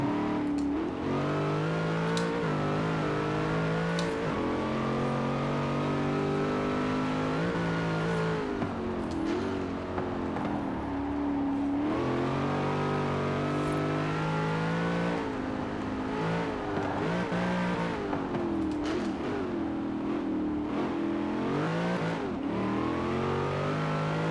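Cadillac CTS-V drift build in Forza Horizon 4 revving hard through gear shifts, with loud, continuous engine tone whose pitch climbs and dips sharply at each change, close and alone with no talk.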